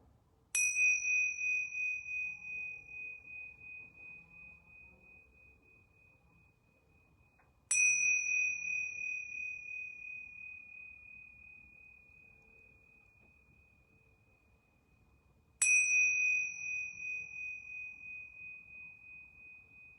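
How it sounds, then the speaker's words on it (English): Yoga bells ring three times, each bright, pure chime struck clearly and then left to decay slowly over several seconds before the next strike, in an otherwise quiet room. "I'm going to ring these yoga bells 3 times."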